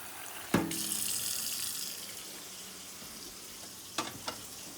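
Water running from a tap into a pot while making ramen, a steady broadband hiss for about two seconds that fades, followed by a couple of sharp knocks near the end.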